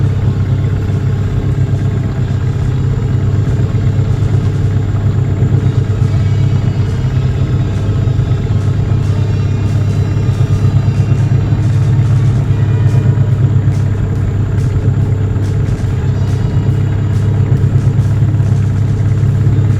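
A 1996 15hp Mercury or Evinrude outboard motor idles at about 1,000 RPM, a steady, loud low throb that stays even throughout at close range with no speech.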